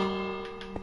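A bell rings in the Minecraft video game, one clear struck tone ringing on steadily and alone, with a softer chime near the end.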